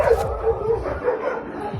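A female street dog whimpers and yips in short, close, high cries, with a rescuer's soft voice faintly underneath.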